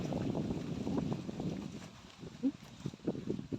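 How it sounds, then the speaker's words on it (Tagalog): Steady wind rushes and buffets the microphone throughout, with a faint low rumble underneath and no clear talking. "Medyo malakas po yung hangin."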